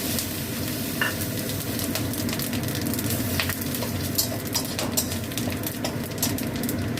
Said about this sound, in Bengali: এবার আমি এতে গোটা গরম মশলা, মৌরি, জিরে আর তেজপাতা আর মেথি ফোড়ন দিলাম